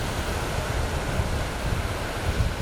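Strong beach wind buffeting the microphone over rushing surf, a loud, continuous roar of gusts and breaking waves with no voices.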